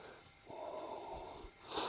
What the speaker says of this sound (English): work it in again with Scotch-Brite pad